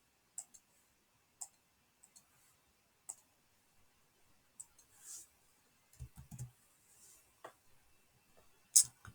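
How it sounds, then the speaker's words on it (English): Calculator keypad buttons being pressed, a sparse series of light close clicks at irregular intervals in an otherwise quiet room. "All I need to type into my calculator is divided by 24."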